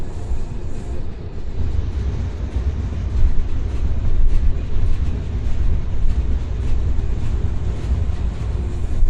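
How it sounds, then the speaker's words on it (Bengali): A train pulling out of Bhanga railway station on the route from Dhaka to Jessore, heard as a steady deep rumble with rolling wheel noise that stays loud and continuous. "এরপর ভাঙা রেল স্টেশন থেকে ছেড়ে দিল"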